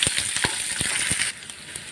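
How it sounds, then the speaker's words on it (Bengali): Onion frying in oil in a pan while cooking a crab curry, a close, steady hiss of sizzling broken by a few quick scraping stirs, with no talking. "এবার আমি পেঁয়াজটা ভেজে নেব।"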